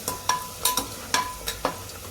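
Turmeric and spices roasting in oil in a pan for spicy Kolhapuri mutton, heard as a soft steady sizzle broken by several sharp spoon scrapes and taps at an uneven stirring rhythm, close and fairly quiet.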